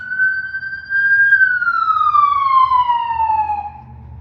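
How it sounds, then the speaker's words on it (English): Wailing emergency siren sweeping high then gliding downward as it passes, loud and fairly close over a low rumble of road traffic, ambulance leaving the scene. "So there's the ambulance again."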